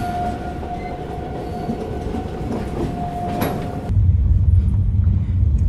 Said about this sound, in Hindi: अभी रात में कुछ ऐसा हाल है ट्रेन का मतलब लगातार चल रही है 110 की रफ्तार में